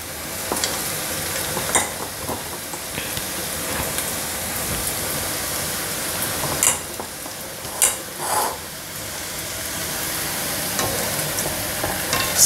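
Punugulu fritters made from dosa batter bubble in hot oil, a dense steady crackle like rain on a surface, with a few louder bursts and spatters as batter drops in.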